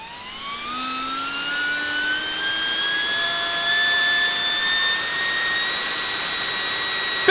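A Flywoo QuickCool VTX portable fan spun up to full speed on 6S power, a steady high-pitched whine with rising motor tones that climbs in pitch and loudness over several seconds, close and alone.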